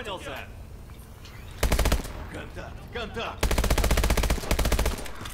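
Bursts of rapid automatic fire from a futuristic weapon in the video game Call of Duty: Advanced Warfare, two loud sustained volleys with quieter game sounds and faint voices between them.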